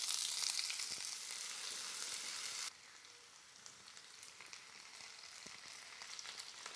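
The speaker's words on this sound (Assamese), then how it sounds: "তেলখিনি গৰম হ'ল, দালচেনি, ইলাচি, লং দি দিছোঁ আৰু তেজপাত এটা দিছোঁ।" Cinnamon, cardamom, cloves and a bay leaf fry in hot oil, a bright, loud sizzle that suddenly drops to a softer, steady crackle partway through, with no talk.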